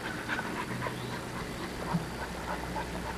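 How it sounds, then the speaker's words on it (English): An American Bulldog pants rapidly under a steady background hum, with faint whimpers breaking through now and then. "she's a really, really athletic dog"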